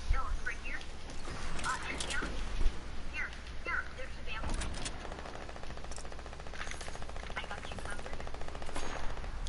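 SMG bursts rattle in Fortnite as rapid automatic fire, sporadic and fairly quiet beneath a player's ongoing talk.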